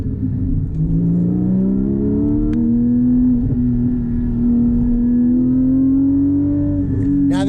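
Porsche 718 Cayman GT4 manual with an aftermarket exhaust revving hard, a loud, close engine note climbing steadily in pitch as it accelerates, with a brief sharp crackle at the end.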